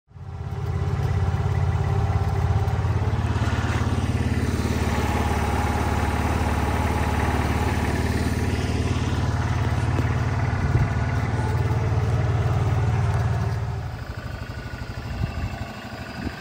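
A limousine golf cart's engine runs steadily at a low, rough idle for most of the span, close and loud, then drops off to a quieter rumble near the end.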